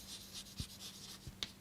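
Chalk or marker scratches across a lecture-hall board in a few short, quiet strokes with soft taps between them.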